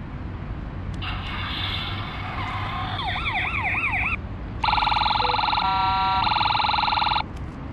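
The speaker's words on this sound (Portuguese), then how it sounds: "Vamos ligar a sirene." An electronic siren cycles through several tones, rising wails and a rapid yelp, loud and close over a low engine rumble.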